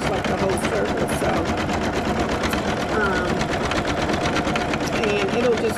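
An embroidery machine stitches a patch onto polyester fabric, a steady rapid mechanical chatter running close and loud for the whole stretch, with faint voice-like sounds mixed into the busy noise.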